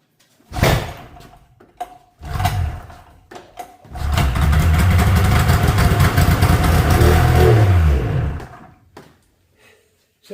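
A snowmobile engine is cranked in two brief failed bursts, then catches and runs loudly for about four seconds before cutting out, leaving near silence.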